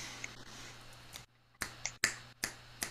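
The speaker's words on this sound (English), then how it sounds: "The official finger snap." Audience finger snaps at a poetry slam, a few scattered bursts of crisp snapping that come in small clusters after a short quiet gap, close and fairly loud.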